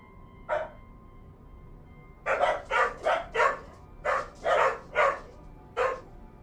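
A dog barks close by, first one sharp bark and then, after a pause, a quick run of about eight loud barks with brief gaps between them. No voices are heard.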